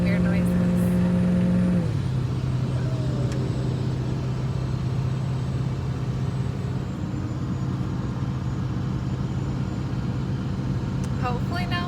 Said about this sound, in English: the truck's making weird noises